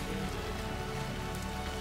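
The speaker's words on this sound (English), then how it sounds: "traditional rain-soaked chongqing" Steady rain pours over rain-soaked Chongqing in the Hitman game, a dense, continuous hiss of drops striking surfaces, fairly soft and without talk.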